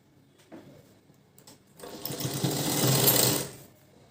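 A sewing machine stitches a blouse in a home tailoring lesson. After a few quiet handling taps, a loud, steady run of close mechanical whirring lasts about two seconds before stopping.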